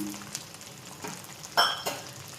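Chana dal, urad dal and coriander seeds frying in a pan for curry leaf powder, a soft sizzle with a few sharp scraping stirs and clinks.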